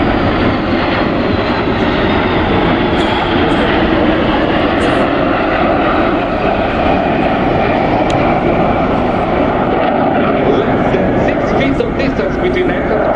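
An Italian Frecce Tricolori MB-339 jet making a low-speed pass with its air brake extended at an airshow, producing a loud, steady jet roar that stays continuous and close for the whole pass.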